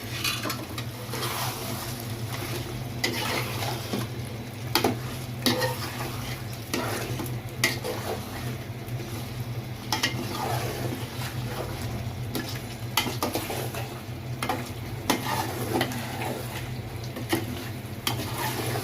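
Fried potatoes are stirred into beef cooking in a pan, with a continuous sizzle and repeated scraping and clattering of a spoon against the pan, close and steady, with no talk.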